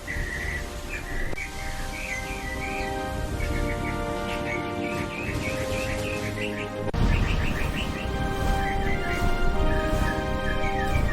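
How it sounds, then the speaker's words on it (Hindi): Small forest bird chirping in a green woodland, repeated quick tweeting phrases over a steady background bed, a little louder and fuller in the final seconds. "उस जंगल में एक छोटी सी चिड़िया रहती थी"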